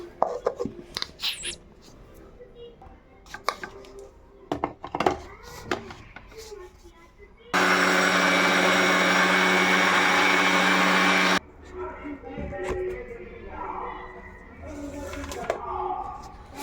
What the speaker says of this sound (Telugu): సో ఇప్పుడు దీన్ని మళ్ళీ మనం మిక్సీ అయితే పట్టుకుందాము